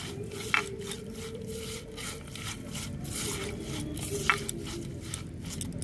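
Raw prawns being rubbed by hand with salt and turmeric, giving soft, wet squelching and rubbing sounds in an irregular rhythm, close and fairly quiet, with no talking.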